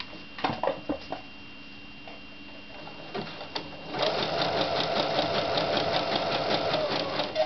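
Sewing machine stitching a zigzag seam on a gaff, a few isolated clicks and short bursts at first, then a steady fast mechanical chatter running continuously at moderate loudness.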